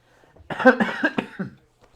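A single harsh, close cough bursts out and fades within about a second, with quiet before and after.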